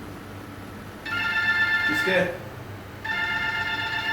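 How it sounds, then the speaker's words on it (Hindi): A telephone rings in a Pakistani drama scene, two bursts of a steady electronic ringtone separated by a short gap, with a voice speaking briefly between them over background murmur. "तेरे घर से फोन है यार।"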